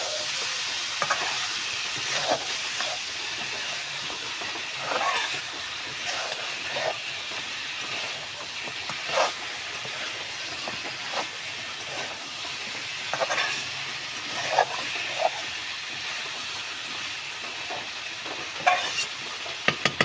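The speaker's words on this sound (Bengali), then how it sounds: "দেখুন ঢাকুনটা আস্তে আস্তে সুন্দর করে চিকেনটা কষে নিচ্ছি" Chicken sizzling as it is sautéed in hot oil in a covered pan for a potato and pointed gourd curry, with steady frying crackle and intermittent stirring scrapes, no talking.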